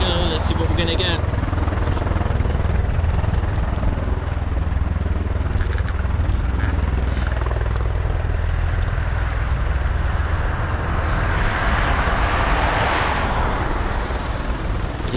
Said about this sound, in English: Is a tilt rotor, but it's also a VTOL, vertical takeoff and landing